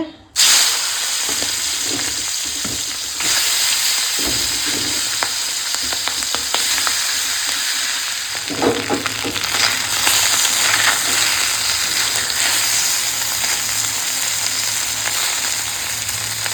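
Singi fish sizzle steadily in hot oil in a wok, a constant close crackling hiss with occasional stirring clatter and little else.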